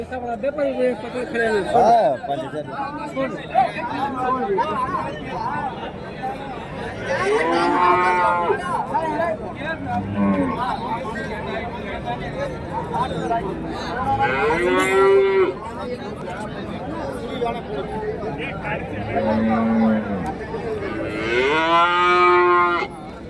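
Cattle moo loudly several times at a cattle market in Kundarapalli, long drawn-out calls rising above a busy crowd of people chattering nearby.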